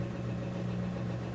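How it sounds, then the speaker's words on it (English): A household washing machine runs steadily in the background, giving a constant low hum with a tonal drone and faint vibration and no speech over it. "you can probably hear my washing machine in the background."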